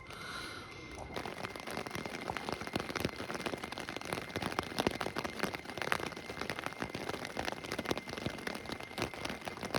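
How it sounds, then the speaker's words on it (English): Steady rain pattering on surfaces during a morning downpour, a dense crackling wash of drops that holds evenly throughout, close and moderately loud with no voices. "This rain would just demolish all my plans."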